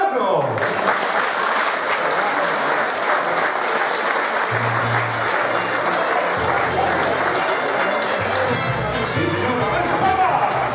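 Enthusiastic applause from a festival crowd welcoming a Mexican-music singer on stage in San Juan de Puntallana; sustained, loud, dense clapping throughout, with faint music tones underneath.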